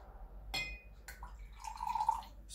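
A little water is poured into red food coloring in a glass: a brief clink, then a short, close trickling pour with a few drips, heard alone.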